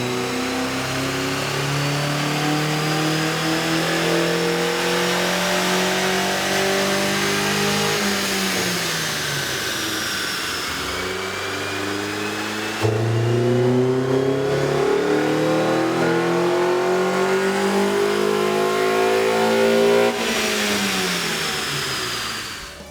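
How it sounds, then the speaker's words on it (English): A Honda Civic Si 2.4L engine with an aftermarket air intake revving on a dyno, loud and close, climbing through long sweeping pulls with rising pitch, dropping back and winding up again, with no talk. "we ran the vehicle on the dyno to test the sound comparison versus the stock intake."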